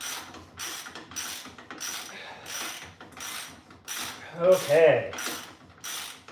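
Wrench ratcheting on bolts of a Nissan Z car in a home garage, a rapid run of clicking bursts repeating steadily up close, with a brief spoken word partway through.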